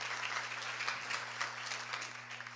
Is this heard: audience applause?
yes